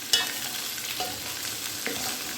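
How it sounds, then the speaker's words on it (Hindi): Borri vegetables stir-fried over high heat, a loud steady sizzle broken by several sharp spatula scrapes as the pieces are turned. "इसको पलटते पलटते करीब करीब 2-3 मिनट तक भूनना है"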